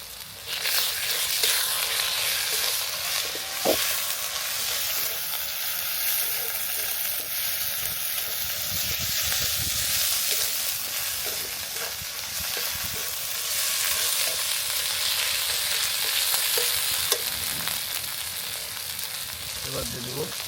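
Garlic and ginger paste fries for a village-style spicy pork curry, giving a steady, dense sizzle that hisses evenly and without pause for the whole stretch.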